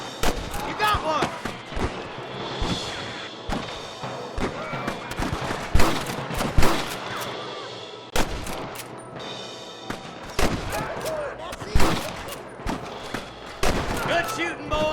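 Gunfire from the Red Dead Redemption video game on PS3: repeated sharp shots and bursts in irregular clusters, loud and close, mixed with game music and voices talking between the volleys.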